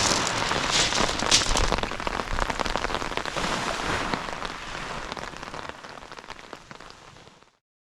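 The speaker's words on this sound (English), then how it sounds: "Nasty bit of rain now." Rain drums hard on Chesil Beach at Ferrybridge, a loud, close, crackling patter of drops on a surface, at its heaviest early and easing gradually before cutting off.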